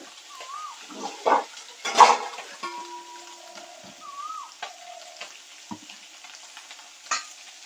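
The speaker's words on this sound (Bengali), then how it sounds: "মাছগুলো হালকা করে ভেজে নিয়েছি, বেশি কড়া করে ভাজবো না" Parshe fish fry lightly in oil, a quiet sizzle with scattered clatters and a few louder bursts, alongside brief whistle-like tones, close and with no talking.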